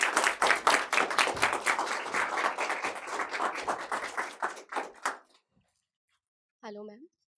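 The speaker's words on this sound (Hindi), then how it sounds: "एक बार जोरदार तालियां मैम के लिए" Loud audience clapping and applause in a Hindi-language talk event hall, dense and sustained for about five seconds before stopping abruptly; a short voice follows after a pause.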